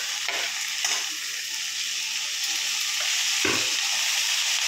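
Onion and coconut fry in a pan for a drumstick-leaf adai batter, giving a steady soft sizzling hiss broken by a few brief scrapes of stirring.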